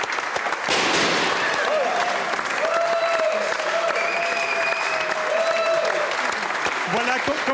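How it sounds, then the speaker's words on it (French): Steady, sustained applause from an audience at an architecture awards ceremony cheering trophy winners, loud and continuous for several seconds, with a presenter's voice over it. "qu'on les applaudisse avec leur trophée"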